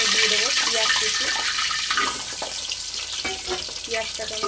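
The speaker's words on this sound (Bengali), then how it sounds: "পেঁয়াজটাকে আমি লাল লাল করে ভেজে নেব।" Chopped onions fry in hot oil with bay leaf, dried chili, cinnamon and cloves, giving a close, steady sizzle that eases slightly midway while a voice talks over it.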